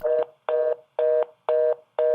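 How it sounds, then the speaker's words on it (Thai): Mobile phone keypad buttons pressed to type an SMS on an old handset with only a few keys, heard as five evenly spaced tone beeps, each about a quarter second long, close and clear with no talk. "สมัยนั้นมือถือมีปุ่มแค่ไม่กี่ปุ่ม จะเลือกตัวสะกดก็ต้องกดย้ำๆหลาย ๆ ครั้ง"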